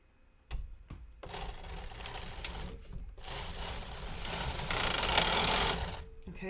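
A sock knitting machine runs a full row with every needle knitting, giving a steady close mechanical clatter that swells louder and brighter toward the end of the pass.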